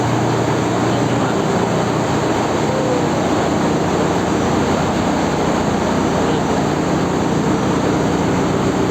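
Loud, steady roar of ship engine room machinery at sea, a dense continuous drone with constant low hum, unchanging for the whole stretch.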